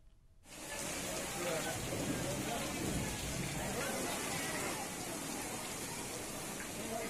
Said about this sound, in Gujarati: સુરત શહેરમાં સવારથી જ વરસાદ પડી રહ્યો છે